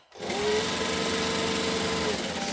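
A sewing machine stitches fabric in a sewing tutorial, starting abruptly and running as a fast, steady, loud mechanical whir close up for the whole stretch.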